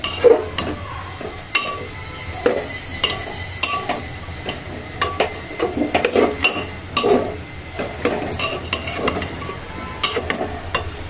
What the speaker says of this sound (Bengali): জিরে গুঁড়ো, হ্যাঁ জিরে, তারপরে একটু নাড়াচাড়া করি, লবণ দিয়ে দেবো।